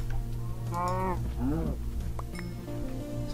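A cow in the video game Minecraft lets out two drawn-out moos in quick succession over a steady low hum, with light clicks after.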